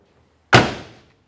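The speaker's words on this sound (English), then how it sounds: "Look at how nicely the door closes to the rear quarter." A single solid thunk as a 1967 Buick GS 400 convertible's door shuts nearby, with a short fading tail and quiet before it.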